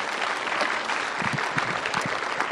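An audience at a school children's quizzing event claps in a dense, continuous round of applause, steady and fairly loud, with faint voices underneath.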